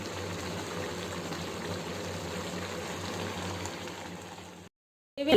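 Sundal chickpea gravy simmering in a pot gives a soft, steady bubbling for several seconds before cutting out abruptly.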